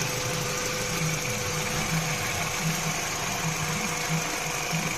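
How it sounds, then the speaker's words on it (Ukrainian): A Peugeot 308 1.6 EP6 petrol engine, just fitted with a new timing chain, idles steadily nearby, a low even rumble with a faint rhythmic knock and no voices. "двигун працює стійко."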